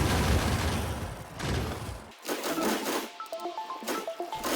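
Grenades burst against biter nests in the video game Factorio, a dense rumbling barrage of loud explosions, then a short lull and further crackling blasts with sharp metallic clicks.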